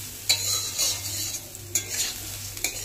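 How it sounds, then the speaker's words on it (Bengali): Rice frying in a pan is stirred with a utensil, giving a steady sizzle broken by repeated scraping strokes every half second or so, close up with no voices. "তারপর সমস্ত কিছু একবার চালের সাথে ভালো করে নেড়েচেড়ে মিশিয়ে নিচ্ছি।"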